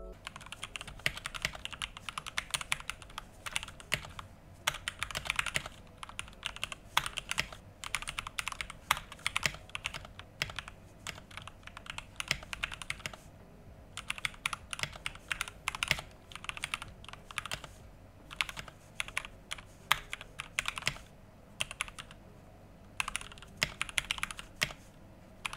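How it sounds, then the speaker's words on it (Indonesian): Typing on a Daxa M64 Ultimate mechanical keyboard, a steady run of close, crisp keystroke clacks with brief pauses between bursts, heard alone without talk. "sound yang dihasilkan kalian bisa dengar seperti ini"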